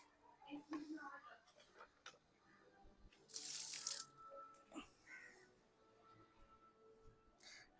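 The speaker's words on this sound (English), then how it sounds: "So what we will do is we'll just empty all the water" Water poured out of plastic bottles into a sink or pot while potting plant cuttings, a brief strong gush of running water near the middle amid quieter splashes, with a voice speaking softly around it.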